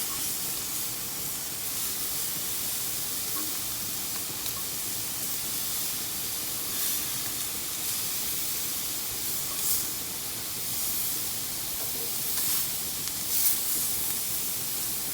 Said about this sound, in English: Nice color on those scallops. They're starting to cook really, really well.